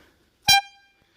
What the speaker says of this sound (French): Ici le klaxon Airzund pneumatique.